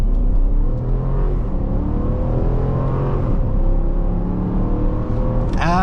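A 2024 Dodge Durango R/T's engine pulls hard under acceleration, heard from inside the cabin, with a steady loud drone whose pitch climbs through the gears.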